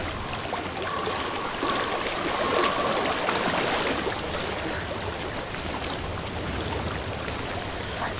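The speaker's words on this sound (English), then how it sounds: "I hear water. Go to it." Stream water flows in the video game Hellblade: Senua's Sacrifice, a steady broadband rush and trickle heard continuously at moderate loudness, with no voices.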